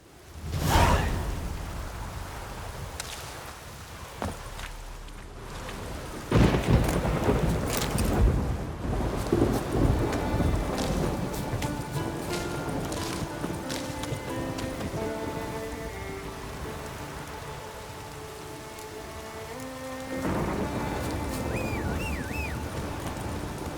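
A thunderstorm with rain in The Witcher 3: steady rain pattering on surfaces under swooshing gusts, with low rumbles of thunder swelling and fading across the stretch.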